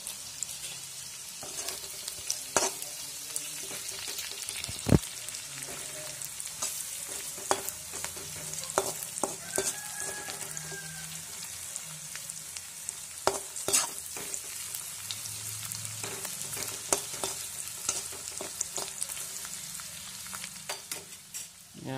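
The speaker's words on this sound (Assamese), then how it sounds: "জলকীয়া আৰু আদা ৰচুন দিয়া হৈছে। ভালদৰে লৰাই লওক।" Pork intestine fries with chillies, ginger and garlic in a steadily sizzling pan while a spatula stirs it, giving frequent sharp knocks and scrapes throughout.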